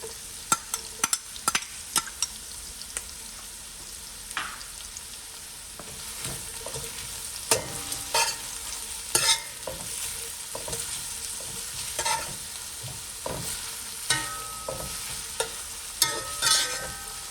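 Scallions stirred into Jamaican steamed cabbage in a pot, with steady sizzling and frying hiss broken by repeated sharp scrapes and clatters of the spoon against the pot, close and continuous with no talking.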